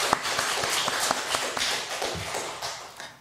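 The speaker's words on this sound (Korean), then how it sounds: "우리 박수로 축복하도록 하겠습니다" A church congregation claps in blessing during a service, scattered hands patting unevenly with distinct individual claps over a soft bed, tapering off toward the end.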